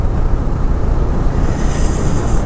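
Loud, steady wind roars against the microphone of a moving motorcycle on a ride to Bidar Gurudwara in Karnataka, with no voices.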